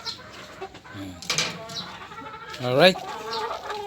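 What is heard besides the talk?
chicken clucking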